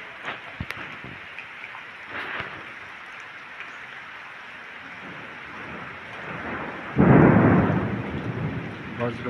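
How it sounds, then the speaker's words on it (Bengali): Thunder rumbles through a sudden Baishakh rainstorm over a village, a steady wash of rain and wind carrying faint crackles before a loud, deep roll breaks in near the end and slowly fades. "বজ্রপাত, আকাশে গর্জন"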